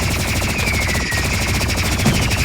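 Energy pistols fire in a video game in a loud, rapid, even burst of shots with no gaps, over a high whining tone.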